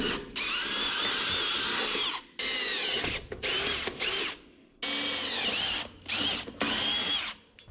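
A power drill boring through a thin plate with cutting fluid during a vehicle suspension repair, giving loud, close grinding bursts with squealing bit chatter, repeatedly stopping and restarting.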